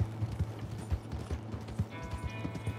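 A horse's hooves clip-clopping at a steady walking rhythm in Red Dead Online, with soft regular thuds over a low background hum and no voices.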